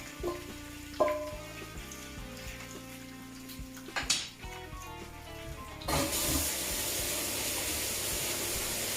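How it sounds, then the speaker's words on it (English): A kitchen water tap is turned on for hand washing and runs as a steady, fairly loud rush in the second half, after a stretch of quieter pan sounds and music. "I'm just washing my hands."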